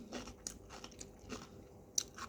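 Dried fish kidney (tai pla haeng) with rice is bitten and chewed close up, quiet irregular crunches and mouth sounds in a hushed room with no speech.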